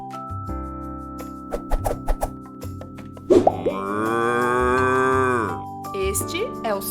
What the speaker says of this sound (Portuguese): Este é o som da vaca e ela vai mugir outra vez.